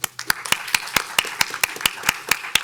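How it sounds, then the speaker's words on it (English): Audience at a Bloomington city council candidate forum claps for the candidates, a steady run of sharp, fairly close hand claps in a small room, somewhat sparse and evenly paced. "please join me in a round of applause for the candidates"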